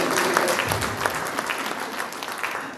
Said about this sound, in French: je voudrais que vous puissiez vous applaudir vous-même